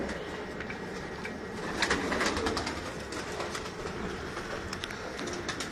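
Caged pigeons coo softly among a dense, steady bed of rustling and chatter, with a brief louder swell of flapping or movement midway.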